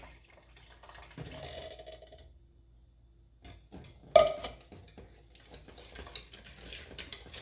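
Liquid pancake batter ingredients poured into a mixing bowl in a home kitchen, a quiet soft pour with a few light clinks of a utensil against the dish and one sharper knock midway.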